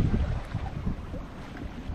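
At sea off Sardinia, a sailboat's engine runs at full throttle as it motors past, a low rumbling drone mixed with strong wind buffeting the microphone, with no speech.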